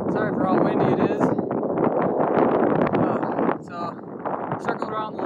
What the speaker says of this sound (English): Sorry for how windy it is.